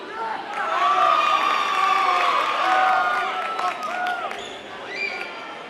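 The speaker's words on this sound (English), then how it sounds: "This crowd is definitely getting loud with 41 seconds remaining and we're now tied." A high school boys basketball crowd on senior night cheers and shouts loudly in a gym during a tied game, a roaring, sustained mass of voices with whistles, squeaking sneakers and a few ball bounces mixed in.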